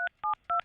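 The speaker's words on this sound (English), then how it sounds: "Andrew, I'm going to dial this up." Three short touch-tone telephone dialing beeps, each a paired dual tone, evenly spaced and clear with no talking over them.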